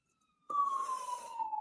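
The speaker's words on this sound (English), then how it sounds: "Oh, there's a ambulance." An ambulance siren passing outside cuts in suddenly as one sustained wailing tone whose pitch slowly sinks, fairly loud and brief, with no talking.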